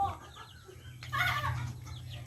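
Chickens cluck softly nearby over a low background hum, with one brief louder squawk.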